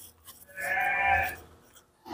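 A local Sapudi sheep bleats once in a pen, a single drawn-out, fairly loud call of about a second with quiet farm background before and after.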